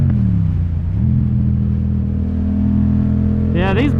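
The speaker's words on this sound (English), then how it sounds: "Yeah, these bikes are fun" A powerful motorbike engine revs hard, a loud, close, sustained drone that dips briefly and then climbs steadily in pitch, with a sharp rising whine near the end.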